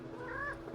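A house cat gives a single short meow, fairly close and soft, at the very end of a brief quiet moment.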